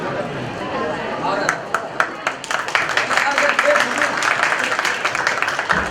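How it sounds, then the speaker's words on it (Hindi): An audience at a Shri Shyam sankirtan devotional gathering applauds to welcome a guest couple. Scattered claps swell into dense, lively clapping, with voices mixed in beneath. "एक बार जोरदार तालियों से स्वागत करें।"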